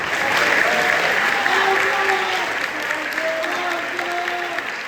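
A crowd claps steadily throughout at a school awards ceremony honoring a jazz band soloist, with faint voices and murmurs mixed under the continuous applause.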